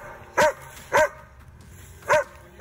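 A search dog barks four times at a search site, sharp single barks spaced roughly half a second to a second apart, fairly close and clear over a quiet background.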